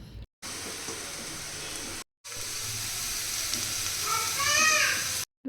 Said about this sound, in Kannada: ಮತ್ತು ಟೊಮೊಟೊ ಹಾಕ್ಕೊಂಡು ಫ್ರೈ ಮಾಡ್ಕೊಳ್ಳಿ.